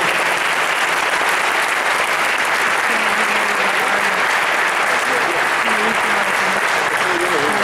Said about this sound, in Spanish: muy fuerte aplauso